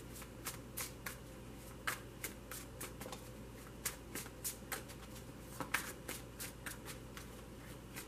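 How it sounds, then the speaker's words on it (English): Three tarot card decks being shuffled, a run of quick crisp riffling flutters and soft slaps repeating steadily, close and fairly quiet, with no voices. "I'm only going to shuffle them for a moment."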